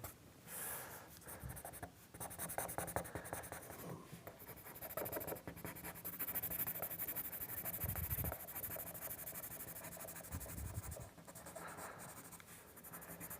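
A pencil sketches and shades an animal drawing on paper, producing steady close scratching and rubbing strokes in long continuous passes with brief pauses between them.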